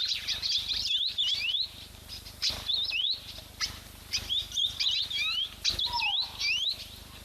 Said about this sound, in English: You can also hear quite a few beautiful bird sounds in the background. I assume seed eaters.